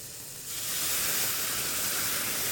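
Beef stock hitting a hot pan of sautéed mushrooms and shallots, a sudden steady loud hiss and sizzle of steam that swells and holds.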